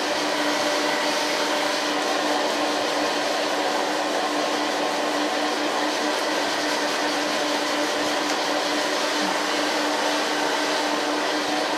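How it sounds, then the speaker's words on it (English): Hair dryer blowing steadily while a short pixie cut is dried, a close, loud, unbroken roar with a constant whine running through it and no pauses. "Let's start blow drying."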